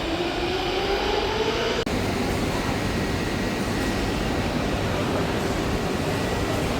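A Brussels metro train running underground, a loud steady rumble and rushing roar with a rising whine early on, continuous and close from inside the carriage.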